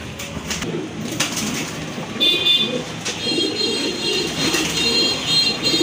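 A pair of caged pigeons coos repeatedly with soft, throaty calls, close by over faint background noise, with no talk.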